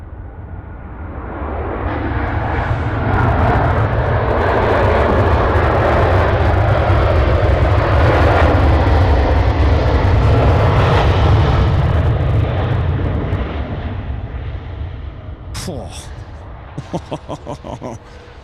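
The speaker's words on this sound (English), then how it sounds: "330s pack a punch on the ears, don't they?" Airbus A330 jet engines roaring loudly at Sydney Airport, a sustained swelling thunder that peaks mid-way then slowly fades as the aircraft passes, with brief voices at the end.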